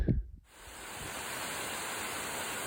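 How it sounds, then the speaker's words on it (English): A 30 to 35 foot waterfall beside a steep mountain hiking trail in the Banff area, roaring as a loud, steady broadband rush after a brief knock at the start. "Very pretty waterfall, I'd say 30 to 35 feet high."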